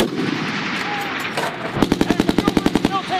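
Machine gun fire during military live-fire and maneuver training on a range; after a stretch of rumbling background, a loud, close, rapid burst of evenly spaced shots rattles out for over a second.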